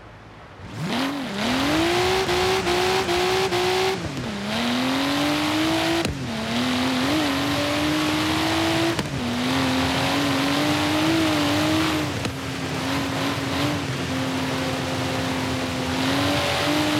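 Nissan Silvia Spec R sports car in Forza Horizon 3 driving through Horizon Australia, engine loudly revving and climbing through gears with repeated shift drops, steady close engine drone throughout, brief tire noise.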